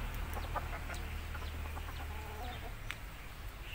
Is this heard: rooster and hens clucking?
yes